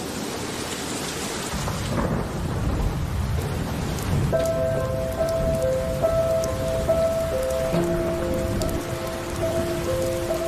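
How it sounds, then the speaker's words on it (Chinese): A thunderstorm with steady rain falling on surfaces and low rumbling thunder. Partway through, faint sustained tones join the storm. "快打雷，好像我刚刚有听到"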